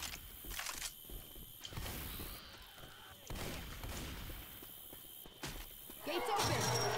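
Gates opening in Left 4 Dead 2, metallic mechanical clanks and ratcheting grinds spread across several seconds, moderately near, mixed with scattered game effects and a brief louder rise at the end.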